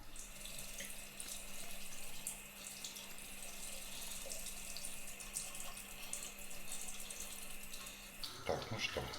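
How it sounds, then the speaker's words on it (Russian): Tap water runs steadily over a copper coin as soap is rinsed off, a faint continuous hiss with a small splashing change near the end. "Убираем и, конечно же, смываем мыло."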